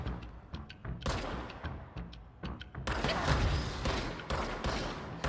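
Gunfire from the Control video game, a sniper rifle firing sharp isolated cracks at first, then a dense, loud barrage of overlapping shots and booms that fills the rest of the clip.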